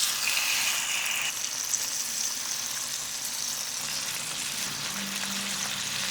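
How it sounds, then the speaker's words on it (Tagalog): Bacon frying in oil for a fries topping, a steady close crackling sizzle that runs unbroken throughout with no talking. "Next, pirituhin na natin yung bacon."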